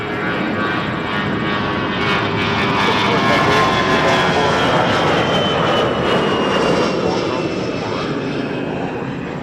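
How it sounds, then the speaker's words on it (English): A FlexJet Challenger 300 business jet rolls for takeoff at Toronto Pearson Airport, its steady loud engine roar holding throughout and swelling slightly midway, with whining tones above and faint voices mixed in. "FlexJet, Challenger 300 on the roll"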